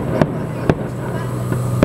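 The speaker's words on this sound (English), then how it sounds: "There's the pool and then there's the fireworks going off." Fireworks going off over Santorini, seen from a hotel balcony at night: four sharp, fairly distant bangs at irregular intervals over a steady low background hum.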